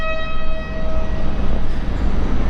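A train at Groningen station: a broad rumbling engine roar with a sustained tonal horn-like whine fading over the first second, loud and close, continuing as a steady mechanical drone without speech.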